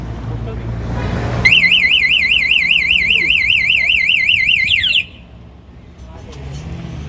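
An Otoroys bike security alarm sounds loud and close, a steady warbling siren that runs for several seconds and then cuts off abruptly, with faint background noise before and after.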